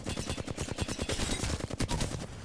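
Rapid automatic gunfire from an Apex Legends weapon during a recoil-control warmup, a dense continuous burst of loud, evenly spaced shots filling the whole stretch with no talk.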